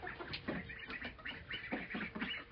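Frightened ducks on a farm quack in agitated bursts, close and fairly loud, with calls overlapping in an irregular, busy rhythm and no talk.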